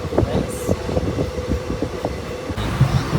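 Inside a moving passenger train on an Indian railway journey, a steady low rumble with faint rhythmic rail clatter runs throughout, with brief thumps and murmuring voices in the carriage.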